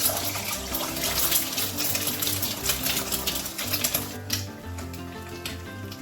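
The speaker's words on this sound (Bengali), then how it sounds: "এখানে গরম জল বসিয়েছি চাউমিনটা সেদ্ধ করব বলে" Pot of water boiling on a home kitchen stove for chowmein, giving a continuous bubbling, hissing rattle with busy crackling texture that eases slightly toward the end, no talking.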